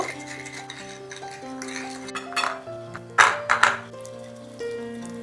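Potatoes for a paneer biryani are mixed with spices in a pot, heard as a few soft scrapes and clinks of a spoon against metal over a steady musical background.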